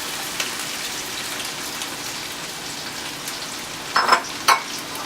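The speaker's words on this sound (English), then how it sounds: "We're just going to drop in our onions." Onions dropped into a hot pan with seared lamb for Uzbek plov, giving a steady close sizzle like light rain, with a few sharper crackles and spits near the end.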